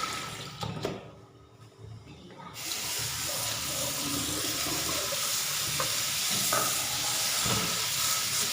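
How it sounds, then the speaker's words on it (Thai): Wild mushrooms being rinsed in water, with a steady close wash of splashing and hissing water filling the clip after a brief quieter start. "เราก็ทำการล้างแบบหลายๆน้ำเลยจน 2-3 น้ำ"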